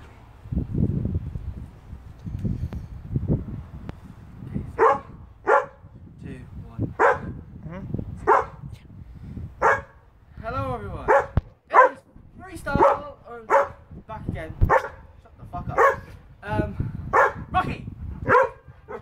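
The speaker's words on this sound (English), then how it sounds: "that's just my dog going mental" A dog barks excitedly indoors in a long run of sharp, repeated barks with short yips and whimpers between them, loud and close, with no other voices.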